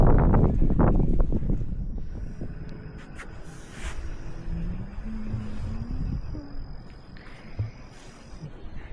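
Strong cool wind on a mountain at Khao Kho, Thailand, heard as loud buffeting rumble over the microphone that eases slightly later on, with faint voices in the background.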